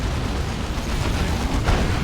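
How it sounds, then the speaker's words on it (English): A plasma cannon shot explodes in the Dawn of War 2 strategy game, a dense, rumbling blast that blends into continuous battle noise over two seconds, with no voices. "that is one hell of a plasma cannon shot"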